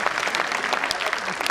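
An audience at a Hindi comedy poetry show applauds in a short, dense burst of many hands clapping at once, steady and fairly loud.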